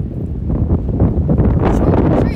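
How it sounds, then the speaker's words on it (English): Steady, loud wind buffeting outdoors with constant low rumble across the whole stretch, no clear speech on top. "It's really cold outside. It's extremely windy."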